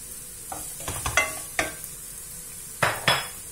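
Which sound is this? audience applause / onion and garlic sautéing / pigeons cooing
onion and garlic sautéing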